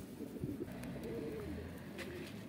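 Soft, low cooing of a Van pigeon, a rolling throaty coo repeated over a quiet background, close by.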